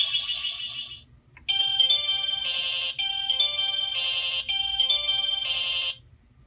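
Electronic chime melody from a Sailor Moon Proplica Spiral Heart Moon Rod toy, bright, tinny tones playing in repeated phrases after a short opening note, loud and close with no talk.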